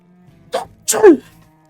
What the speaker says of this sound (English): He just sneezed away all the powder items